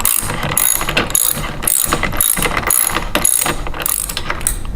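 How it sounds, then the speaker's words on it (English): A 1/2-inch ratchet wrench tightens the wheel bolt on a Toro Recycler lawn mower, giving loud, close, rhythmic ratcheting clicks in repeated bursts of turning strokes. "take your 1/2-inch wrench and firmly tighten"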